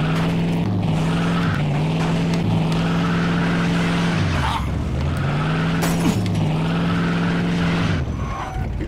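A car in the video game Mafia II drives with a loud, sustained engine drone that rises and falls through gear changes, with tyre squeal from sliding around corners.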